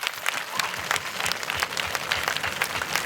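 An audience at a lively comedy dance event claps steadily, a dense even patter of many hands that carries through the whole stretch without a break.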